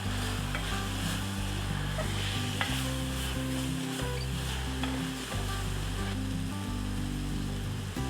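Biryani masala with cumin powder sautés in a hot pan for kuska biryani, giving a steady, close sizzle with soft stirring scrapes throughout and no voices.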